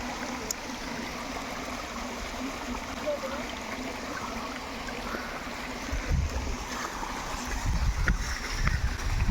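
A waterfall stream with low water flows in a continuous rushing wash, close and even throughout, swelling slightly louder toward the end, with no clear voices.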